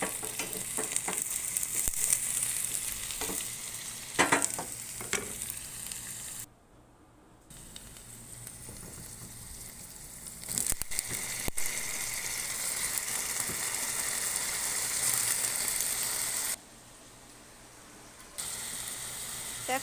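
Hot oil frying for an eggplant dish, a continuous moderate sizzle with scattered clicks and rattles, broken by two short quiet gaps.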